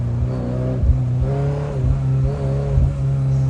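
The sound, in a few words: Ferrari 348 manual sports car engine revving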